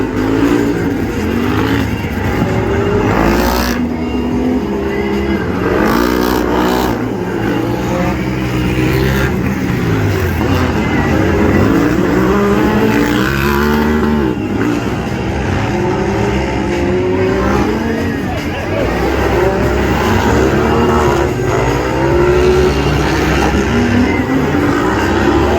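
Engines of cars and a school bus racing a figure-8 demolition derby track, a continuous loud revving drone with shifting pitch as vehicles accelerate and pass, a commentator talking over it.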